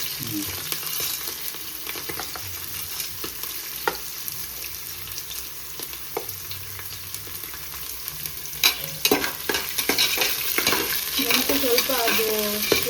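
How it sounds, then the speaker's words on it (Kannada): Black pepper, ginger and garlic fry in oil for a bone-in mutton sambar, giving a continuous close sizzle with frequent scraping stirs that grow busier and louder toward the end, with no speech. "ಸ್ವಲ್ಪ ಅದು ಎಣ್ಣೆಯಲ್ಲಿ ಸ್ವಲ್ಪ ಫ್ರೈ ಆಗಬೇಕು"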